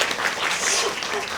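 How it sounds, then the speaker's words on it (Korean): Audience applause at a film screening talk for 'The Glass Garden' with director Shin Su-won and Moon Geun-young: a short, dense wash of clapping, loud and close, with no break. "박수 부탁드릴게요"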